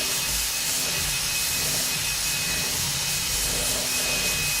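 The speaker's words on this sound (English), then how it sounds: "I'm going to go ahead and drill this a little bit." An electric drill bores into the neck heel of a Martin HD-28 acoustic guitar during a neck reset, giving a steady, close, unbroken grinding whine for the whole stretch.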